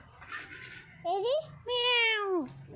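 A house cat meows close by: a faint short call, then two clear, drawn-out meows, the last one longest and loudest, over a quiet indoor background.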